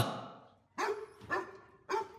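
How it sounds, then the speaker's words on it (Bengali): A large dog barks loudly three times in sharp, evenly spaced bursts, close and alone with no voices over it. "একটা কুকুর ভেতর থেকে ডেকে উঠল ঘেউ ঘেউ করে খুব জোরে"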